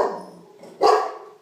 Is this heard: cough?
no